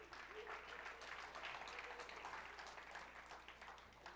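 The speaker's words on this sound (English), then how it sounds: "We can clap for that." An audience at a talk breaks into steady, enthusiastic applause. The dense clapping from many hands fills the room and stays even throughout, with no voice over it.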